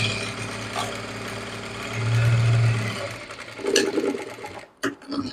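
A sewing machine runs in a steady mechanical whir while stitching a sleeve joint, slowing and stopping near the end with a few short bursts.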